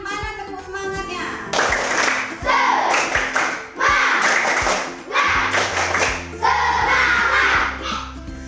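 Indonesian schoolchildren in a classroom doing a rhythmic clapping chant, several loud bursts of group clapping and shouting, with a teacher's voice between them.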